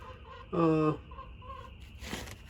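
Chickens in a winter coop let out one loud, close, stepped clucking call, with faint clucks and rustling around it and a short scratchy rustle near the end.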